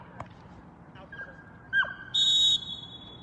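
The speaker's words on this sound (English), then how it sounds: "Whistle recall." A sharp whistle recall blast is given to a protection dog at a protection trial, a brief tone followed by a longer, louder sustained whistle over quiet field background.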